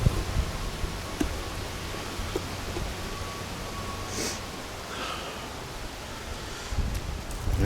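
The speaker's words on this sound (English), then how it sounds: "The wind is picking up, so hang on a second." Wind gusts across an outdoor microphone, a steady rough rumble and buffeting with a few brief rustles and thumps, swelling louder again at the end.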